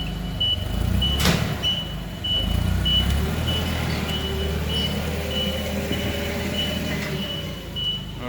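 A 15-foot U-Haul truck backs up, its reversing alarm beeping in an even repeating rhythm over the low rumble of the idling engine.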